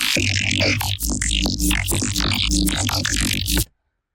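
Dense, loud electronic glitch noise stutters and chops in rapid bursts over a heavy low thump, then cuts off abruptly into silence.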